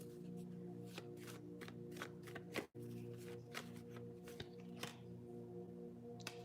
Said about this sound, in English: I'm going to pull these cards up.